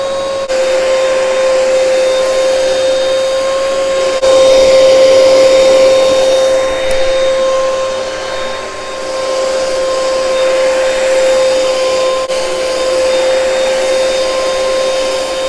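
A Hoover Powerdash Pet carpet cleaner runs loudly and close for the whole stretch, a steady motor whine with a constant high tone, its pitch and force rising and easing slightly as it works, with no voices.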